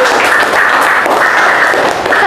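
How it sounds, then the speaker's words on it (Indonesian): A classroom of students applauds a classmate during a physics lesson, steady dense clapping filling the room for a couple of seconds at fairly loud level. "Kasih tepuk tangan lagi sama Anggi"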